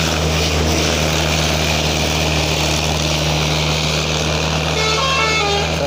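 Road traffic flows past with a steady, loud engine drone and a faint horn-like tone, the vehicles close by and continuous throughout with no voices.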